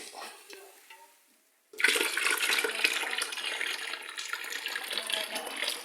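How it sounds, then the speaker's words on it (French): Boiling water poured from a pot into a bucket to unblock a toilet, a sudden loud, sustained gush and splash that starts after a short quiet stretch and runs steadily to the end. "Je coupe le feu et je verse dans mon seau."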